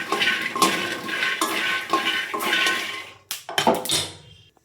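Peanuts roast in an aluminium pan, stirred with a metal spoon: repeated close scraping and rattling sweeps, then a short pause and a few sharper clanks against the pan's side.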